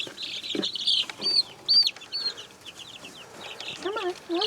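Small Wyandotte chicks in a brooder coop give high, rapid peeping clucks and chirps in quick bursts, close and clear, with a person talking softly at times.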